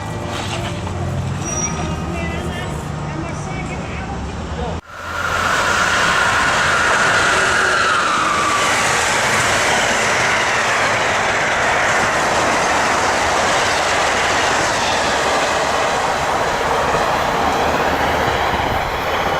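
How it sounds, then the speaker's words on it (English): A southbound Amtrak Northeast Regional passenger train roars past close by, its sudden loud rush arriving after a quieter lead-in and then holding steady with rumbling wheels and a brief squeal. "A southbound Northeast Regional I almost missed."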